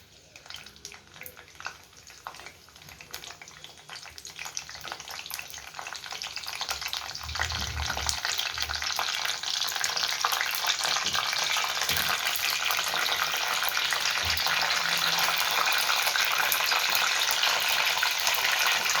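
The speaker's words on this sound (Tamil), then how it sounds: "இப்போ கருவேப்பிலை போடுறேன்." Curry leaves hit hot oil while an anchovy (nethili) fish kuzhambu is being cooked, producing a loud, steady sizzle and crackle that swells after a quieter start and keeps going without talk.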